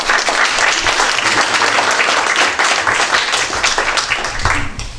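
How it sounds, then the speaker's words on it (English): Audience at a town board meeting applauding in a steady, dense, loud round of clapping that holds for the whole stretch, with no speech over it. "Your applause, because she did an outstanding thing."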